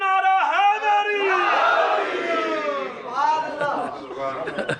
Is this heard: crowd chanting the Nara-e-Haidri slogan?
yes